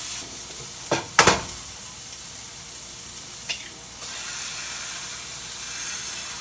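Three eggs frying in a hot pan: a soft, steady sizzle with a few sharp clatters and a scrape early on, then the hiss grows slightly louder and continues evenly.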